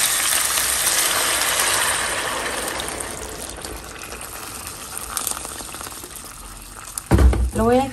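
Water pours into a cooking pot holding chiles, a quarter onion, halved tomatoes, oregano and cumin, a steady close gush that tapers off over several seconds, followed by a brief burst of speech near the end.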